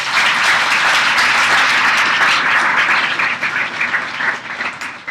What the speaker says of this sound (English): Can we get another round of applause for both of them?